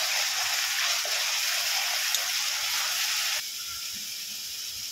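Onion paste sizzling in a hot pan while cooking egg korma, a steady close hiss that softens slightly near the end.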